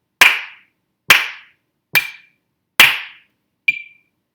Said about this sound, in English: Gonna clap, go.